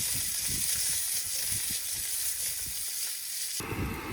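Potatoes frying in a skillet at a campsite in the mountains of northern Spain, a steady close crackling sizzle with soft pops, the hiss brightening sharply near the end.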